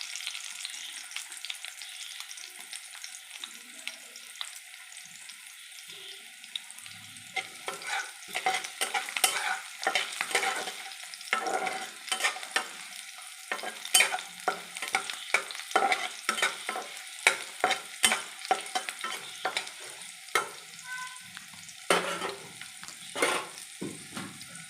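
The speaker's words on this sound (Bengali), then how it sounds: "আর রসুনগুলোকে ভালো করে ভেজে নেব।" Garlic cloves fry in oil in a pan, a soft continuous sizzle broken by many quick, close scraping stir strokes that grow busier and more rhythmic after the first few seconds.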